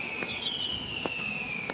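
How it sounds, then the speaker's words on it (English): Distant fireworks pop and crack a few times at a race track over a steady background roar of racing cars, with a faint high whine running underneath throughout. "Fireworks fly"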